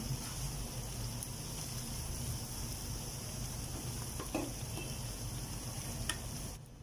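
Grated potato hash browns fry in oil in a pan, a steady soft sizzle and crackle throughout with faint scraping ticks, no talking.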